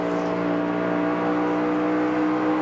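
Stock car engine of Schrader at the Coca-Cola 600 race, a sustained high-pitched drone with strong steady harmonics, loud and continuous without any voices over it.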